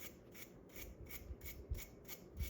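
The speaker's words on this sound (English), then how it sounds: "I'm gonna take my brass brush and I'm gonna clean these ears up" A brass brush scrubs rust and dirt off the ears of a brake caliper in quick, even back-and-forth strokes, a soft and close rasping rhythm with no voices.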